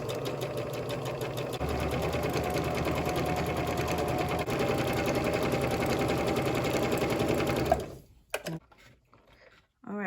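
A Kenmore 385 series sewing machine runs a serge stitch along fabric. The needle chatters in a steady fast rhythm for about eight seconds, then stops abruptly and leaves a few faint handling clicks.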